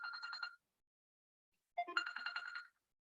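A mobile phone ringtone for an incoming call, two bursts of a bright repeating electronic melody separated by a short gap of silence, fairly close and clear with no talk over it.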